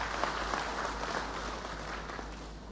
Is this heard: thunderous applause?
yes